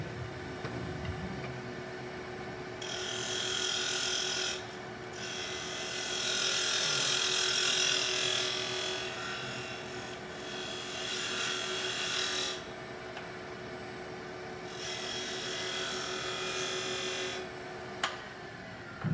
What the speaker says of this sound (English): So I'm going to cut my tenon diameter now.